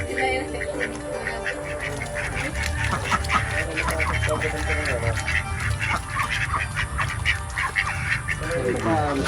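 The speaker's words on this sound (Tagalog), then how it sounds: "Ito guys, yung mga itik. Malalaki na din." A flock of grown ducks quacking in a yard, busy overlapping calls close by, with people talking over them.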